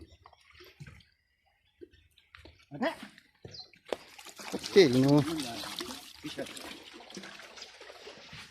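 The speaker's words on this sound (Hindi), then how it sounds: "बाकी ये पानी पिला रहे हैं शाहिद साहब और बाबा वहीदा साहब।" Water being poured for dogs to drink outdoors, a trickling, splashing pour that grows louder midway, with people talking nearby and quiet gaps at the start.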